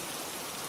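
Steady rain falls in a dense, even hiss of countless drops, soft and continuous for a brief moment.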